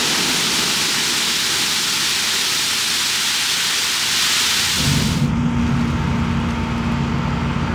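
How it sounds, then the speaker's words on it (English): Steady broadband rain hiss on a farm during a hurricane, loud and continuous, with a low rumbling wash and a shift partway through to a humming engine-like drone beneath the rain. "It's starting to sprinkle just a little bit."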